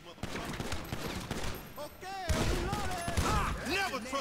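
Gunfire in the video game GTA V, rapid automatic bursts and single shots crackling throughout alongside faint voices and game sounds.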